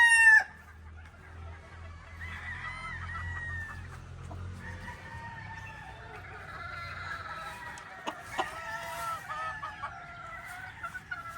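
Chickens clucking and roosters crowing at a pullet breeding farm with single-mating pens, several birds calling over one another at moderate distance, with a low hum underneath and a few sharp clicks toward the end.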